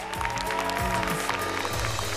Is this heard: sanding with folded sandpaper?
no